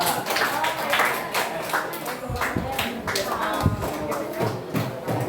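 Students in a classroom clap for group 2 after its presentation during a supervised teacher-training session, a steady patter of many hands that continues over the full stretch with some voices mixed in.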